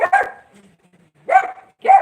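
A stray dog barks up close, a loud yap followed after a pause by two more sharp barks.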